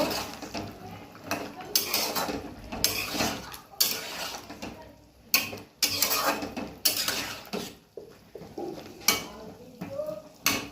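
A spoon scrapes and clanks against a pan while a spicy taro, eggplant and egg curry is stirred, irregular close metallic knocks and scrapes in bursts with short pauses.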